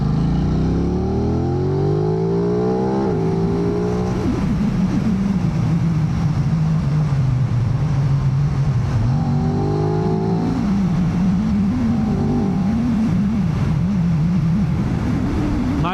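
A 2025 Aprilia RS660 Factory motorcycle engine rises and falls steadily in pitch as the bike is ridden and opened up, the loud continuous drone heard alone without talk.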